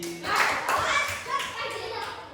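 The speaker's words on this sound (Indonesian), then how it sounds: "Tepuk tangan Mas Andi" Classroom applause for a pupil: a short, light burst of clapping from a class of children, fairly close, with kids' voices chattering over it.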